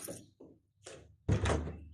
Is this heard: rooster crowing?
no